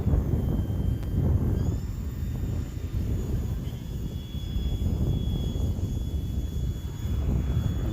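An E-flite Turbo Timber Evolution RC airplane flies in windy conditions, its thin, steady electric motor whine running throughout at a moderate distance, with rising and shifting pitch under heavy, constant wind rumble.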